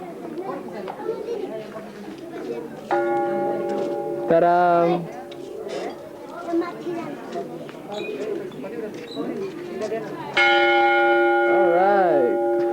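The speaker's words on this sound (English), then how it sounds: "Abba's gonna ring the bell for good luck." A bell is rung for good luck at a stupa in Nepal, two loud ringing strikes with long shimmering decay amid people chatting and birds nearby.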